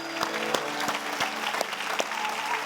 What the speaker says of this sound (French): pouvons-nous encore faire monter vers le Seigneur des acclamations d'appréciation.